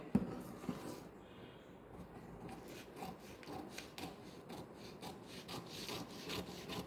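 Scissors cut through blouse fabric on a cutting surface with quiet, steady rasping strokes that repeat in an uneven rhythm, heard alone without any talk.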